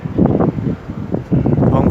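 Strong wind from storm Pabuk on the Thai coast facing Koh Samui, with light rain, buffets the microphone in loud, close, rumbling gusts that ease briefly midway before surging again.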